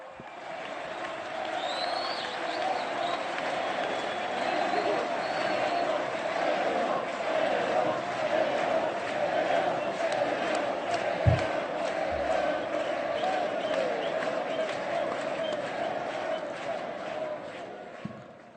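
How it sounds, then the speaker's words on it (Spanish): A large crowd at the second World Meeting of Popular Movements welcomes Bolivian president Evo Morales with sustained applause, cheering and shouts, a loud, continuous roar lasting the whole stretch before tapering at the end. "Lo recibimos con este fuerte aplauso"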